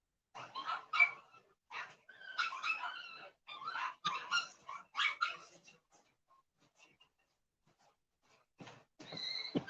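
Dogs, one of them pregnant, whimpering and whining softly in a quiet indoor setting, a series of brief high yelps and whines with pauses between.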